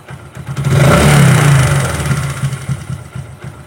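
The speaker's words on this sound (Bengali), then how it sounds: "দেখুন আমরা একটু হালকা অ্যাক্সেলেটার দিচ্ছি" Light throttle blip on an engine during carburettor tuning: a close, steady engine note rises to a brief rev, then slowly falls back toward idle, with no talk.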